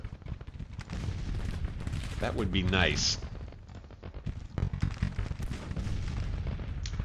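Cannon and rifle fire from the video game Grand Tactician: The Civil War, set in an 1861 battle, booms and crackles in rolling bursts at a middle distance, with someone talking over the battle noise.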